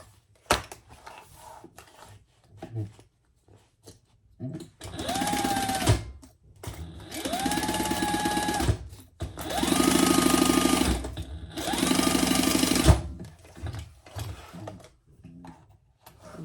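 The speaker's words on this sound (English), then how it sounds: "And I back stitched over my key fob." Sewing machine back stitching across a key fob on a leather ostrich-style bag, running in several loud bursts of rapid mechanical stitching separated by short pauses, close up, with no talk.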